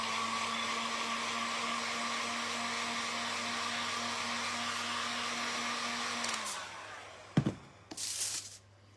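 Hair dryer blowing on a vintage thrifted decoupaged butterfly: a steady, close electric whir with a constant hum that runs for about six seconds, then cuts off, followed by a few brief handling knocks and rustles.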